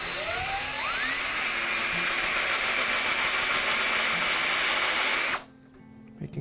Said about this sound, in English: Now we're drilling the bottom section.